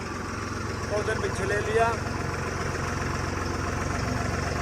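A bulldozer and a road roller sit idling together in a tug-of-war setup, a steady low rumbling drone throughout with someone talking briefly over it.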